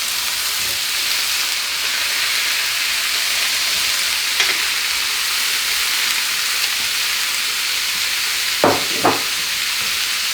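Peppers frying in a pan give a steady, bright sizzling hiss throughout, with a few brief louder spatters or stirring clatters near the end, heard alone without talk.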